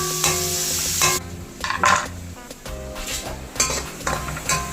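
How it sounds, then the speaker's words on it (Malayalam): Mustard seeds fry in hot oil while being prepared for sambar, a close, crackling sizzle broken by bursts of stirring and clinking of a spoon against the pan. "കടുക് വറുക്കാനായിട്ട്"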